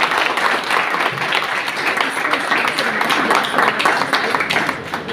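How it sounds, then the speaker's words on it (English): An audience at an artificial intelligence technical workshop gives sustained applause, a thick continuous patter of many hands that stays loud and tapers slightly at the close. "please give a huge round of applause to the IPM team"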